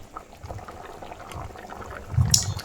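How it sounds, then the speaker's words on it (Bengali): Hilsa fish and arum curry boils in a covered pan over a medium gas flame, giving soft continuous bubbling and gurgling that swells slightly near the end, fairly quiet and close. "মিডিয়াম ফ্লেমে রাখার পরে পাঁচ মিনিট পরে দেখো কেমন ফুটে গেছে"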